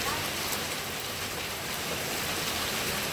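Hail falls steadily as a dense, continuous hiss of pellets striking surfaces, loud and close with no breaks, much like heavy rain.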